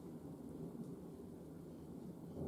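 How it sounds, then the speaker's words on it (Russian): Low, continuous thunder rumbling under a steady wash of rain in a village, heard from a window, heavy and even throughout with no breaks. "Слушаю гром."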